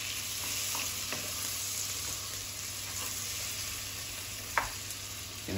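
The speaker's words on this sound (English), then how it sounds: "we want to add all of our veg in at one go and fry it until it's nice and soft and translucent" Swede, celery, carrot and red onion fry in melted butter, giving a steady close sizzle with faint stirring clicks and one brief sharper knock.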